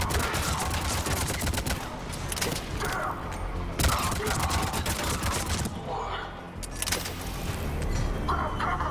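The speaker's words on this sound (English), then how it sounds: "That shield ain't gonna do nothing against my armor-piercing bullets." Armor-piercing bullet gunfire in the video game Mass Effect 3, rapid bursts of shots crackling amid battle noise, with a few louder sharp reports standing out.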